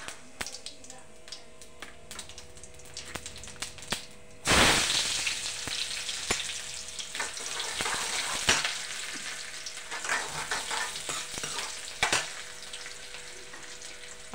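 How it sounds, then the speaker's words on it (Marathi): Mustard seeds, then cumin, sizzle and crackle sharply in hot oil in a home kitchen pan, the frying bursting in loudly partway through and continuing with scattered pops, close by and without talk. "मोहरी झाली आता, तर जिरं घालते थोडं."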